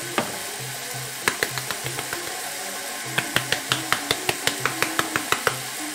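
Onions cooking down in a pan with salt, pepper and garlic powder, for couscous at a Yennayer Berber celebration: a steady close sizzle with a low hum and a series of sharp clicks and taps from stirring.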